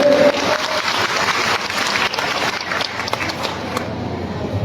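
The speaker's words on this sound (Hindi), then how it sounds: "क्या मोदी को ताली बजा के आशीर्वाद दीजिए।" A crowd at an election rally in Khagaria addressed by Union Minister Giriraj Singh claps loudly, a close, uneven burst of hand claps that carries on steadily with no talk over it.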